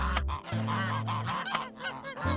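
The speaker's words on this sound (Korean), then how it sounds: "두부를 대하는 거위들의 태도에 약간의 변화가 생겼다" Farmyard geese honking loudly and close, a rapid overlapping series of harsh nasal calls that continues without a break.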